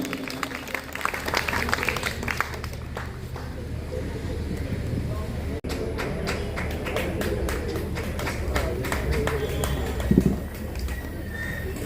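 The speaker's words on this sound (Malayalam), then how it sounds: "നിറഞ്ഞ കയ്യടികളോട് കൂടി ഹൃദയത്തോടു കൂടി നമുക്ക്" Sustained crowd applause from an audience at a school ceremony honouring a teacher fills the room, a dense steady clatter of many hands with voices murmuring underneath throughout.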